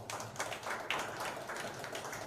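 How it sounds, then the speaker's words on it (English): A round of applause at a gym launch event, a crowd clapping steadily and densely for about two seconds, moderately loud and fairly close, with no voices on top. "a round of applause for them here"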